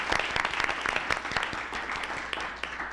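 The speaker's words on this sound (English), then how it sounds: "big round of applause" Applause from an audience at a school board meeting, honoring the lone sign language interpreter; dense steady clapping with sharper individual claps, sustained for about three seconds.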